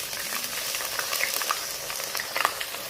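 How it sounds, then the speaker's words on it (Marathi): Onion paste fries in hot oil for a Kolhapuri mutton curry, a dense continuous sizzle and crackle with small spitting pops, close and steady throughout. "आता आपण यामध्ये कांद्याची जी पेस्ट केलेली होती ती ॲड करू।"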